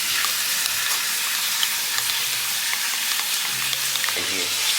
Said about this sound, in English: Look, so the bacon is cooking right now.